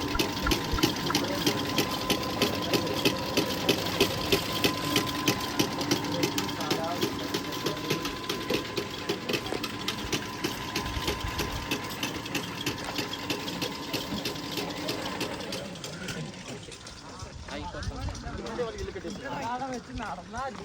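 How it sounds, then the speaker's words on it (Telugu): A coffee machine runs near Edakkal Cave in Wayanad, giving a steady hum with a low pump-like whir and faint watery churning. Voices talk over it, and the sound thins out near the end. "ఇక కాఫీ మిషన్ చూడండి."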